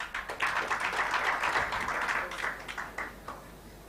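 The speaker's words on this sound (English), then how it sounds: "I know that you'll give a round of applause." An audience at a radio studio unveiling claps in a round of applause, a dense crackle of many hands that holds steady, then thins and fades out.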